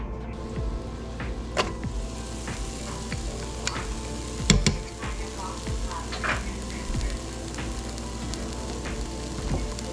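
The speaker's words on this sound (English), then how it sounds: "we're going to start with sauteing the onions. So we're going to turn our Instant Pot onto sear" Onions sautéing on the sear setting of an Instant Pot make a steady, close sizzle with crackling pops and occasional stirring scrapes, and no one talks.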